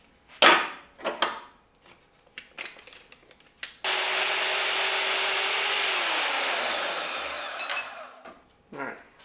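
A threaded end link rod for a Jeep LJ Antirock sway bar is being cut: a loud, steady grinding saw runs for about four seconds, with a few short knocks and scrapes before and after.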